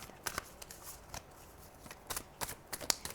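Tarot cards being shuffled close by, soft riffling and slapping bursts in an irregular rhythm, fairly quiet with no talking.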